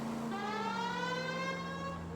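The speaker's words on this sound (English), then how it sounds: "I honestly just find the siren so loud it's annoying" A police car siren in the 1940s Los Angeles detective video game L.A. Noire wails loud and steady, with one long tone sliding slowly downward.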